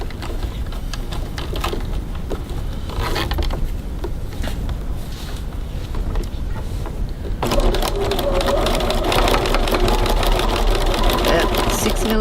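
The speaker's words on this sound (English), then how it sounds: "Now I'm just going to pop over the sewing machine and add a few little stitches on each end" A sewing machine runs steadily while adding a few short stitches to secure each end of a zipper on a bag, its motor whirring and needle clattering loudly and continuously, with the sound brightening in the last few seconds.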